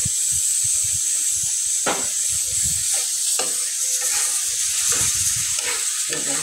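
Potatoes fry in hot oil with cumin powder, a constant close sizzle broken by several scraping stirs of a spoon across the pan.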